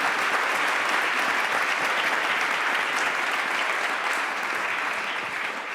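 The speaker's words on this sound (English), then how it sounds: "first of all give a round of applause to our speakers." Audience at a research assembly gives a round of applause for the speakers, a dense, loud and steady wall of clapping that holds evenly throughout with no talking.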